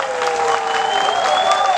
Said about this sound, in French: Il faut encore les applaudir très fort.